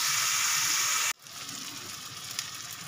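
Spice masala with salt being sautéed in a pan: loud, steady frying sizzle that cuts out abruptly, then resumes as a softer, continuous crackle with a brief scrape near the end.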